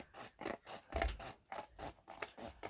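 Scissors snip a thin sliver from a sheet of paper while making a large no-sew envelope, giving about seven short, close, crisp cutting strokes in a steady rhythm with no voices.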